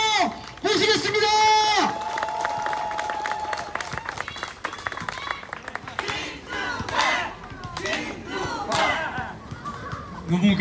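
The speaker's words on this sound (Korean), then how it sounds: "여러분들의 박수로 모시겠습니다" Campaign rally crowd in Jeju cheers and shouts loudly as a guest politician is welcomed, then settles into scattered applause and excited voices, with the energy rising and falling.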